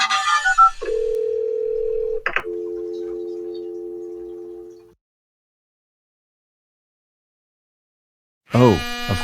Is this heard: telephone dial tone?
yes